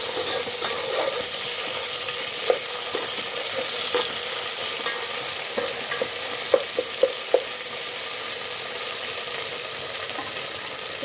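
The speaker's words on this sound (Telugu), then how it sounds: "దాని తర్వాత ఇందులో ఒక స్పూన్ అంతా అల్లం వెల్లుల్లి పేస్ట్ వేసుకోవాలి. మంచిగా కలిపేసుకుందాం." Ginger garlic paste stirred into onions frying in a pan for masala chicken curry, a steady sizzle throughout with a few soft spoon scrapes and taps standing out near the middle and end.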